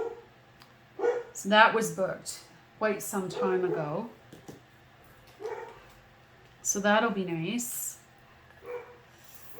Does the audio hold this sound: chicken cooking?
no